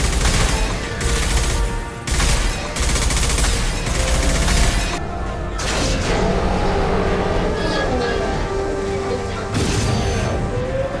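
Heavy sustained gunfire at the injection tube in Mass Effect 2, loud and dense with rumbling combat noise throughout, brief breaks between bursts.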